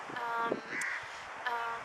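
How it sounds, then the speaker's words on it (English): A crow cawing outdoors, a few harsh calls spread across the moment, moderately close over a steady background hiss. "There's a crow."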